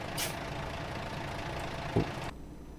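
A truck tractor bobtailing without a trailer in American Truck Simulator gives a low steady engine rumble, with a brief hiss near the start and a short knock before the sound cuts to quieter idle.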